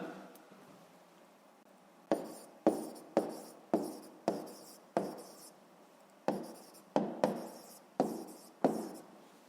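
A pen writes a math formula on paper, heard as soft continuous scratching followed by a series of sharp, regular taps and strokes, close and quiet, with no voices.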